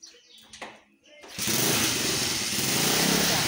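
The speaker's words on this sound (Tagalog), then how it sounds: "Sakay na siya ng motor." A motorcycle engine starts up and runs loudly and steadily, after a moment of quiet voices.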